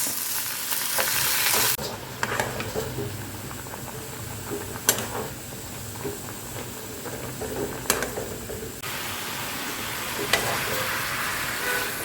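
Parshe fish cooking for a spicy curry in a pan, with a continuous close sizzle, scraping and stirring sounds, and a few sharp clinks of a utensil on the pan, and no voices.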